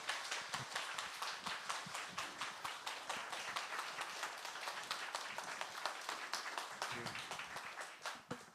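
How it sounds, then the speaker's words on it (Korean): A church audience applauds to welcome a speaker to the front, steady dense clapping that fills the whole stretch at moderate distance, with no talking over it. "나오실 때 박수로 환영해 주시기 바랍니다"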